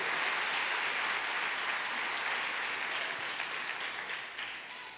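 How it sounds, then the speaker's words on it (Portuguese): A church congregation gives loud, sustained applause after a sermon passage, a dense even wash of many hands that slowly fades toward the end. "vamos dar mais um aplauso bem forte"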